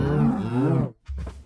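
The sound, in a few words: cow being hit in Minecraft, mooing (video game)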